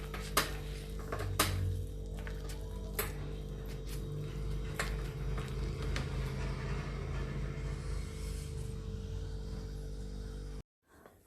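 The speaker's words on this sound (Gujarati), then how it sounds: "હવે આપણે સોજી નાખવાનો છે અંદર અને તેને મિક્સ કરવાનું છે।" Semolina mixed into rawat wada batter in a bowl: irregular spoon clicks and scrapes against the bowl over a steady low hum, ending abruptly in near silence.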